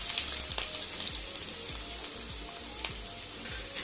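Onion sizzles in oil with whole spices in a pan for chicken liver pepper fry, a soft, even crackle with faint spoon taps and scrapes, close and quiet, no voices.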